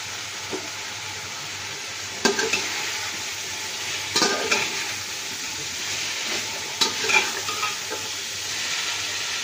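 Beef being fried and stirred in a pot for Delhi-style biryani, a continuous sizzle broken by several scraping stirs and clinks of a spoon against metal, no voices.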